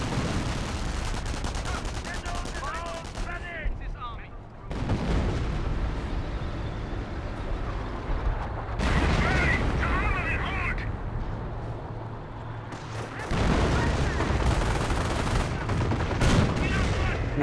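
Rolling M2 mortar barrage and bursts of rifle and machine-gun fire in a Company of Heroes World War II battle, US against Wehrmacht, loud and continuous in waves, with a commentator talking over it.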